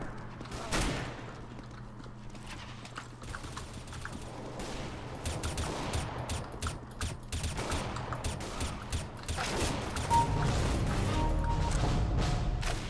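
Sustained gunfire in the underwater shooter game Ninja Fish, a dense rattling fusillade of repeated shots with crashes and booms that grows louder and busier toward the end, with occasional talk over it.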